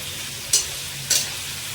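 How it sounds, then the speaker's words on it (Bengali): Onions fry in a pan for mutton masala curry, a steady sizzle broken by two short, bright scraping bursts as they are stirred, close up with no talking. "যতক্ষণ পেঁয়াজটা লাল লাল হয়ে ভাজা হয়ে যাচ্ছে ততক্ষণ এটা থাকবে"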